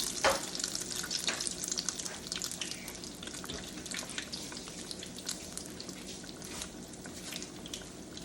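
Eggplant cooking in a pan, a faint crackling sizzle with scattered pops and spits, fairly quiet and uneven throughout, no speech.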